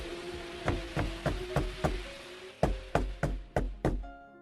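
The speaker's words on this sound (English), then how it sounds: "Suddenly, somebody knocks at the door." Knocking at a door on a dark, stormy night: two rounds of firm, evenly spaced raps, four then five, close and loud with a slight ring, no voices.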